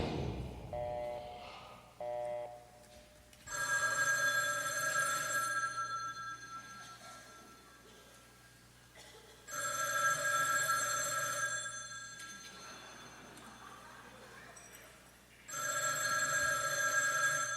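A telephone bell rings in long electronic bursts of several seconds each, three rings separated by pauses, over a low sustained drone in a musical setting.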